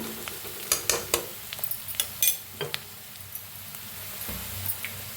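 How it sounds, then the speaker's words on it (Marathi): Corn kernels stir-fried in a pan for chilli fry, with sharp scraping clicks and knocks of a spoon over a low continuous sizzle, close by, in irregular bursts. "भाजून घेऊया आता बघा मक्का छान अशी भाजलेली आहे"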